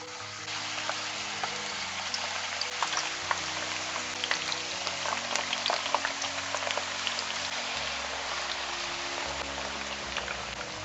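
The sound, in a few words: sweet potato frying in hot oil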